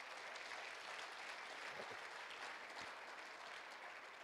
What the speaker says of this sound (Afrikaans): kan jy vanmorgen vir God die hande klap gee